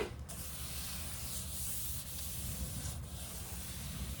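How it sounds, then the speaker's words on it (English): Light hand sanding of a repaired laminate cabinet, a steady dry rubbing scrape continuing close by for a few seconds with no voices. "Give it a light sand again."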